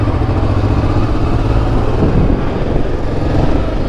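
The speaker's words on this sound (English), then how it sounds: "There's a bunch of motorcyclists revving their engines here." Several motorcycles rev and rumble together on a city street in Portugal, a loud, continuous dense engine roar without a break.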